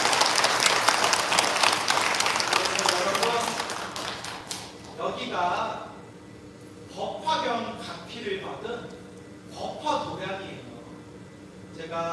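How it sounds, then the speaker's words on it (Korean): Loud audience clapping fills a Sunday service at Beopryunsa Buddhist temple in Yongin for about four seconds, then fades as a speaker's voice takes over. "큰 박수 주시죠"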